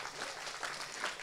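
Brief, faint applause from a symposium audience at a climate change event, a soft wash of distant clapping lasting about a second.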